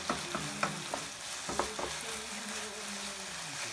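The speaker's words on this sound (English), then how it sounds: "we'll give everything a really, really good stir" Chicken yuk sung ingredients stirred in a hot pan, a steady close sizzle with scraping utensil strokes every half second or so, no voices.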